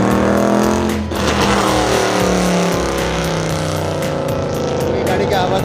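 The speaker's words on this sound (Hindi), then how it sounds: "ये गाड़ी की आवाज़ बहुत तेज़ है" A loud car engine drones continuously near a mall in Ras Al Khaimah, its steady roar filling the whole stretch with a brief dip early on and faint voices underneath.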